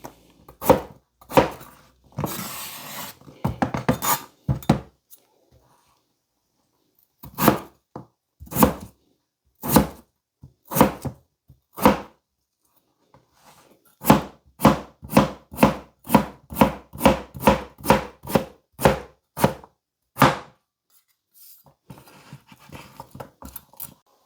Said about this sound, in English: So we're just gonna make some small cubes.